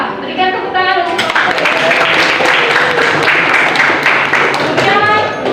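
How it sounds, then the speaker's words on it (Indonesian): Classroom group clapping for the winning quiz team, a burst of hand claps that swells and holds before fading, with a voice speaking at the start and end. "Berikan tepuk tangan untuk"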